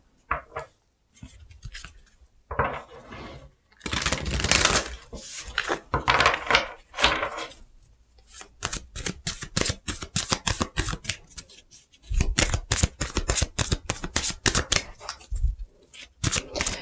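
Tarot advice cards being shuffled and handled at close range, a long run of crisp riffling, slapping and rapid clicking bursts with brief gaps.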